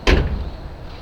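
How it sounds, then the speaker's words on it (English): A door on an old Ford, parked where its headlights and engine are being worked on, slams shut once with a loud, close thud that fades into quiet background. "How's the door just slamming on its own?"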